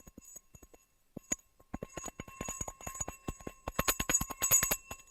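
Hand bell rung on a live stock-market trading stream. Sparse metallic clinks come first, then they speed up into a quick jangling, ringing burst that gets louder toward the end.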